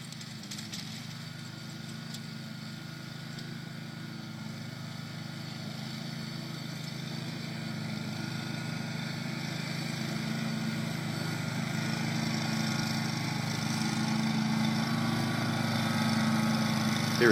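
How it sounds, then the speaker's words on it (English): Zero-turn lawn mower driving across a lawn, a steady engine drone that grows gradually louder as the machine draws nearer, heard alone with no talk. "Now he's driving a zero-turn lawnmower."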